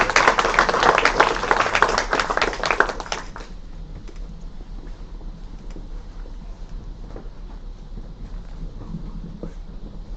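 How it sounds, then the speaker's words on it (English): Audience applause after a talk at a university mini-conference, a burst of dense clapping for about three seconds that stops abruptly, leaving quiet room tone. "Let's give him a round of applause."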